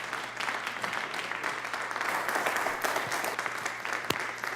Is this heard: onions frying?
no